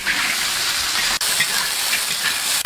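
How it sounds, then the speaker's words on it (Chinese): Lobster stir-fried over high heat in a wok with scallion, ginger and garlic gives a steady, loud, close sizzling hiss that runs without a break, with one brief dip partway through. "接下来就把龙虾爆炒，入葱姜蒜，把龙虾爆香"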